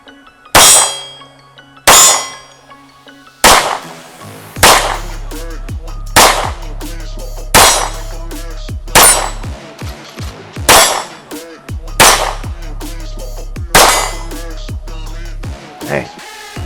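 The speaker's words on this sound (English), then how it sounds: "I got a mag loaded up, send some lead down range." A Nighthawk Sandhawk pistol fires repeated shots at steel targets on an outdoor range, each sharp report followed by a ringing metallic clang, about a dozen evenly spaced hits with brief pauses between strings.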